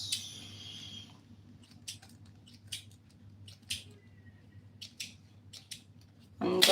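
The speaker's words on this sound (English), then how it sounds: "So notch around and be careful not to cut the threads." Scissors notch the fabric seam allowance of a shirt being sewn, giving a string of short, crisp snips spread across the stretch over a low steady hum, with a louder rustle at the end.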